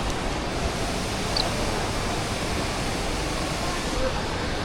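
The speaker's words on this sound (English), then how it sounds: "A waterfall in an airport." Indoor waterfall inside Singapore's airport terminal, a steady, even rush of falling water that holds constant and fairly soft throughout, with no clear voices over it.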